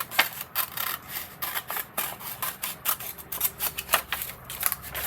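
Scissors cut out a paper page pocket in a craft project, making a rapid run of crisp snips and slicing strokes heard up close with a steady, repeating rhythm.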